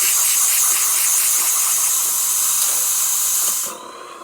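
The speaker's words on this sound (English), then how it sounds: "Great steam coming out of the machine." A DeLonghi Magnifica espresso machine's steam wand releasing a powerful steam jet, a loud, bright, steady hiss lasting several seconds before it shuts off and fades to quiet.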